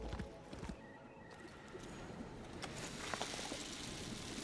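Horse hooves clip-clop and a horse neighs in a streamed video game, the game sounds playing alone and steadily.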